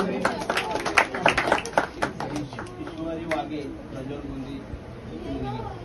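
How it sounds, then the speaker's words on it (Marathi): Clapping at a public Ganesh festival, cheering a child's drawing of Ganesh: a burst of hand claps in the first half that thins out, with a voice speaking over and after it and crowd chatter around. "तुझ्या एकदा जोरदार टाळ्या वाजवल्या."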